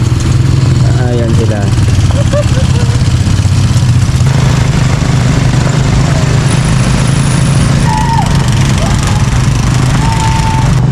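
Motorcycles and other vehicles cross during a holiday rush in Tanay, with a steady engine drone near and constant throughout, while people talk over it.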